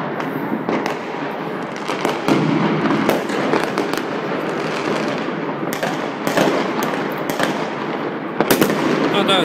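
Dense, continuous crackling of New Year's fireworks in Russia, rapid pops and bangs overlapping without pause, loud and fairly close throughout.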